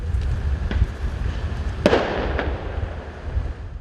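Fireworks set off by protesters during a night street clash crackle and pop in rapid bursts, with one sharp bang standing out over a steady crowd-like rumble.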